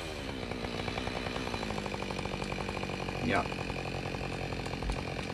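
A Husqvarna 572 XP chainsaw runs steadily while felling a tree, its engine droning loud and close throughout, with a brief rise in pitch midway as the cut deepens; a voice speaks briefly over it.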